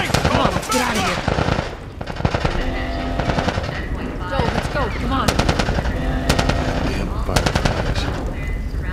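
Rapid machine-gun bursts and scattered gunshots from The Last of Us Part 1 on PS5, loud and close, repeating in bursts over nine seconds while voices shout over the fighting.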